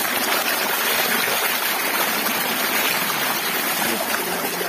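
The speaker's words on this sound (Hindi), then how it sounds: "मैं यहाँ से पानी भर लेता हूँ" Water gushes steadily from a tap on a tank into a bucket, a loud continuous rushing splash with no break and no talking.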